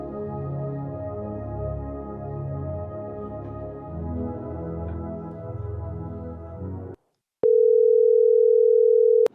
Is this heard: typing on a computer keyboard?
no